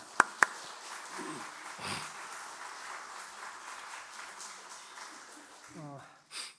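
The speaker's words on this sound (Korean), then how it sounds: "큰 박수 부탁드립니다" A church congregation at a Sunday worship service claps for a member just home from a long hospital stay: a soft, steady patter of applause with a couple of sharp knocks near the start and a voice coming in at the end.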